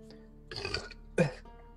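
A game character belching, two short throaty bursts a moment apart, close and moderately loud against a quiet background, with no speech.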